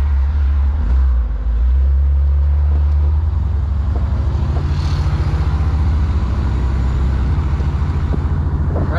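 A 1957 Chevrolet Bel Air with a fuel-injected 283 V8 and Powerglide automatic drives through traffic: a loud, steady low engine rumble with a brief dip near the start, heard from inside the car with no talking.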